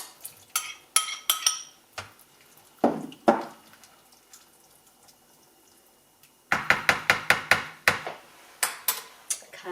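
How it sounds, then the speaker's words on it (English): A utensil stirs risotto with sweet corn in a microwave dish, giving irregular clinks and scrapes against the dish, quiet gaps in between, then a quicker run of taps. "I'm going to give that a good stir."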